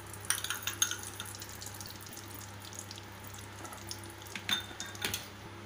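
Ghee melting in a frying pan on the stove for rice kheer, giving a faint, steady low sizzle under scattered small clinks and scrapes of a spoon against the pan.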